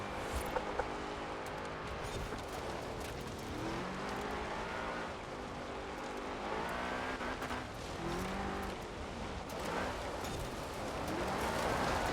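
Engine of a BMW M5 drifting in Forza Horizon 4, driven with a Logitech G29 wheel, roars steadily with rising and falling revs, and tyres screech and skid throughout as the car slides.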